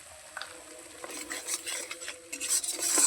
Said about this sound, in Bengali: দিয়ে এটাকে আমি একটু কষিয়ে নেব